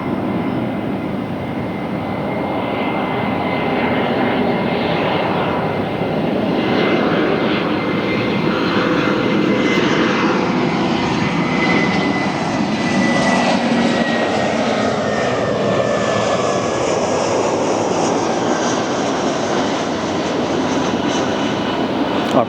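Delta jet airliner operating as flight 2551, arriving at LAX from Portland, Oregon, a loud sustained engine roar with broadband rumble that swells and holds steady through its approach, no talking.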